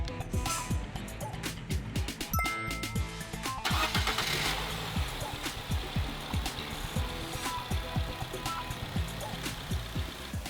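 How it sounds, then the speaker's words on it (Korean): A Nissan Cube engine cranks and catches after a faulty spark plug is replaced, then settles into a smooth, steady idle close by, with no misfire popping. "엔진 소리도 아까는 뭐 이상하게 뭐 퍽퍽퍽퍽퍽 이랬는데 지금 그런 게 하나도 없지"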